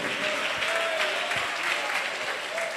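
A church congregation applauding during a sermon, a steady wash of many hands clapping at moderate distance, with a faint sustained tone and brief voice traces underneath.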